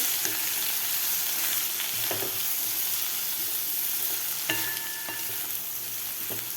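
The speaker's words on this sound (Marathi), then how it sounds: "व्यवस्थित आपल्याला हे परतून घ्यायचं आहे" A spiced mixture sautés in a pan, a steady dense sizzle and hiss running the whole time, with a few light scrapes of stirring and a faint metallic ping, close and without voices.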